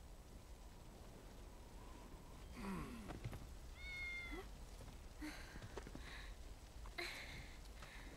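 A cat in Final Fantasy VII Remake gives a few soft, scattered meows and sniffs over a quiet hissing background, faint and close, with no talk.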